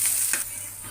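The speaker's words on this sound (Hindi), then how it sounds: "थोड़ी देर हमें इसे सॉटे करना होगा, जैसे कि जिंजर गोल्डन ब्राउन" Ginger sautéing in a pan for marinara sauce makes a soft, steady sizzle with a brief stir scrape, close and unaccompanied by speech.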